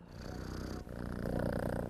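A cat at a rescue sanctuary purrs close and loud in a steady, rumbling rhythm, alone and with no voices.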